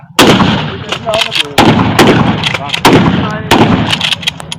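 A gun fired during rifle shooting practice, five loud, sharp close shots spaced about a second apart, each with a brief echoing tail, and someone speaking between them.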